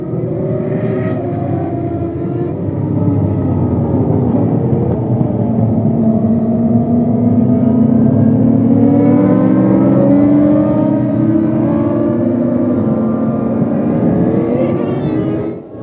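Formula 1 cars from 2003 circulate behind the safety car at the Brazilian Grand Prix on a wet, hilly track, a steady loud engine drone with rising and falling pitch, alone without talk.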